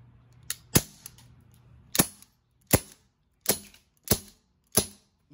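A Glock 19 BB gun fires plastic BBs, with seven sharp, close, loud pops spaced unevenly, roughly once a second, and no talking.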